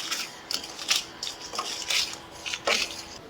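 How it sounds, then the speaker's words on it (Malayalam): Dried red chilies and dry fish being dry-roasted in a pan, with a series of scraping, clinking stirs of a spoon against the metal at an irregular pace, close and fairly quiet, no voices. "ഇതും കൂടി ചേർത്തിട്ട് നമുക്ക് നന്നായിട്ടൊന്ന് വറുത്തെടുക്കാം."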